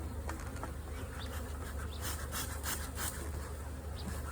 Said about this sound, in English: There's more bees down here than there were last time.